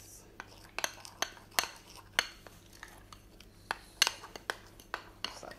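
A spoon clinks and scrapes against a bowl while stirring a thick powdered milk face mask mixture, sharp irregular taps spread across the moment, close and fairly quiet.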